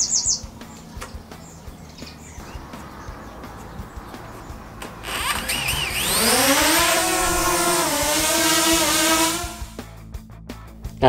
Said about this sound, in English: After takeoff, I just lowered the DJI Mavic Mini a bit and let it hover over the takeoff point.